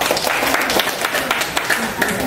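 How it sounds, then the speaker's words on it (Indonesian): Friends at a reunion in a villa give a steady round of applause, a close and fairly loud clapping that holds evenly throughout, with faint voices mixed in. "tepuk tangan."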